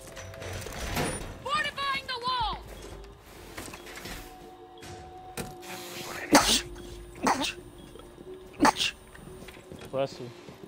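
A sneeze bursts out once at close range during a tense round of a team shooter game, surrounded by game sounds and chatter from players.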